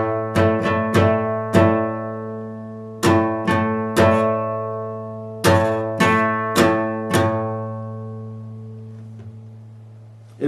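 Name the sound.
guitar chord strummed slowly, down-up pattern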